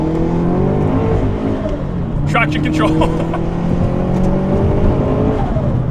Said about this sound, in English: It just auto rev matched for me just there.